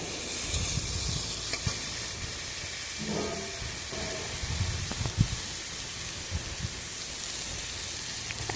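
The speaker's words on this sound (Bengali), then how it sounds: "ভালো করে ভাজতে থাকবো সামান্য একটু তেল দিয়ে নিই" Ridge gourd pieces frying in a little oil for a rohu fish curry with jackfruit seeds, a steady broad sizzle with soft stirring clatter throughout, fairly close and even.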